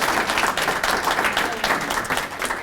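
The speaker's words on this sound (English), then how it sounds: "let's give a hand of applause for all of our elected officials and their supporting messages today" A press conference crowd applauds elected officials, a dense, fairly close burst of clapping that holds steady for the whole stretch with no talk over it.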